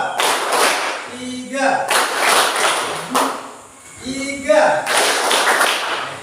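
A class claps hands together on a spoken count, giving several separated bursts of clapping with brief pauses between, while a voice calls out numbers over them.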